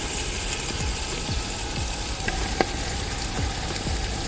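Chicken and spices fry in a biryani pot over an outdoor fire, a steady close sizzle and crackle with occasional soft stirring scrapes and no talking.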